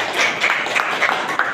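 A school class gives a short burst of applause, many hands clapping unevenly together for under two seconds.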